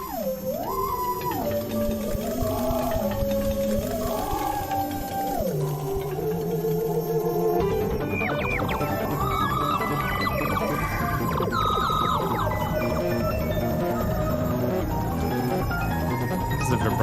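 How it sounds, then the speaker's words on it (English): A theremin plays a smooth, sliding melody with wide vibrato, joined partway through by a fuller backing arrangement of other instruments, steady and loud throughout. "the theremin adds a lot"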